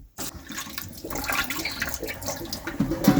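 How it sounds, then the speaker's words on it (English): Soaking water draining out of a pot of salt beef, a gushing, splashing pour that starts abruptly and churns steadily, close by and fairly loud, with no talk. "Okay, so we're going to drain it the second time now."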